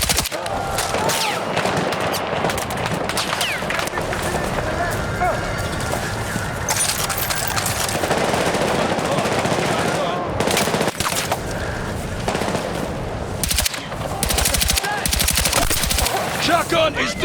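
Machine gun fire in the video game Battlefield 6 during a night raid: dense rapid bursts and scattered shots crackle loudly and almost without pause over continuous battle noise.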